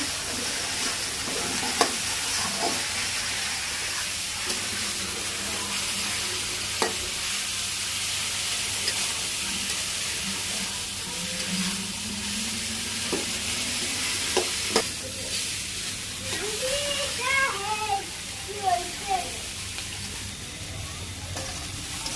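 Greens are tipped into a pan of lightly browned onion and fried, with steady sizzling and repeated stirring scrapes close by. A few faint chirps rise near the end, and no one speaks.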